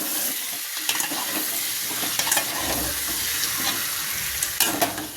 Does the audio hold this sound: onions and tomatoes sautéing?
yes